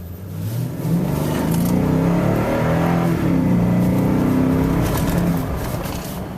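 Toyota Tundra pickup engine with its stock intake, revving up in one long swell that holds, then falls away, loud and close with no voices.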